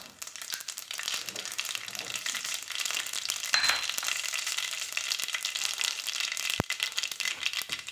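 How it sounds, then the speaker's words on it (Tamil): Mustard seeds spluttering in hot oil left over from frying appalam, a dense steady crackle and rattle running throughout, with one sharp pop near the end. "எண்ணெய் சூடனோடனே கடுகு சேர்த்திக்கலாம். கடுகு நல்லா பொரியட்டும்."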